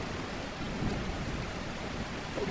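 A thunderstorm outdoors, with steady rain and low rumbling thunder blending into a continuous wash of noise, with no talk.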